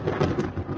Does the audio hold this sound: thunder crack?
yes